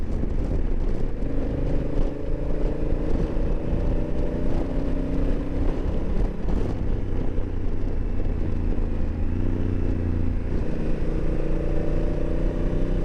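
A Honda A-T motorcycle engine drones steadily while riding, its tone rising and falling with throttle changes, loud and continuous with rushing wind noise.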